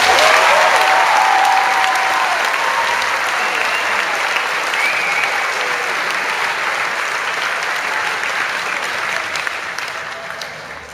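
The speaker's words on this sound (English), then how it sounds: "please a round of applause for Army Captain James Clark" A school audience at a Memorial Day assembly gives sustained, dense applause that stays steady and loud throughout, then tapers slightly near the end.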